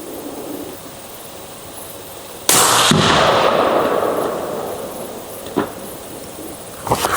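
A single sharp, loud 6.5 Creedmoor rifle shot firing a V-Max bullet at a watermelon target, with a long rolling echo afterward and two small later pops.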